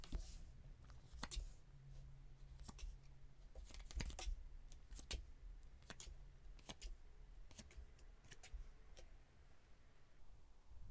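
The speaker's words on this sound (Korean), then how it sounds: "제가 카드 뽑아볼게요" Soft, close taps and slides of tarot cards being shuffled and drawn, a scattered series of light clicks over a faint, quiet room tone.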